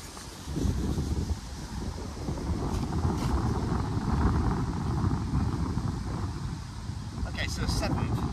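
Steady wind blows across an outdoor golf course, a constant broadband rush with low buffeting on the microphone throughout, while a voice talks over it.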